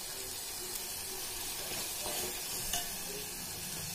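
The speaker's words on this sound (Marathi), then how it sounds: "आपण लो हीट वरच ठेवणार आहोत, म्हणजे छान अशी फ्राय होते." Misal ingredients fry gently over low heat, giving a soft, even hiss with faint crackles and a couple of light ticks, fairly quiet and steady throughout, no voices.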